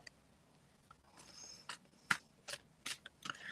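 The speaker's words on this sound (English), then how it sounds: "Just give them a good shuffle." Tarot cards are shuffled by hand for a psychic reading: faint, close riffles and soft card slaps in several short bursts over a quiet background.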